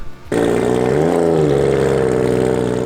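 A JDM car engine starts up and revs loudly, pitch rising and falling, then settles into a steady throaty drone close by.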